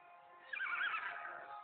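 A mustang gives a close, shrill whinny that rises and then trails off over about a second, with no talk.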